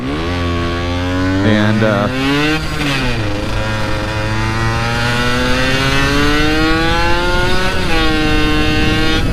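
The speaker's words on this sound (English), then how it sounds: "this is a vintage two-stroke motorcycle, you guys, and it's really awesome" A vintage Yamaha YSR50 two-stroke motorcycle engine buzzes loudly and close, its raspy pitch rising and falling as it revs and shifts, with a brief spoken word over it.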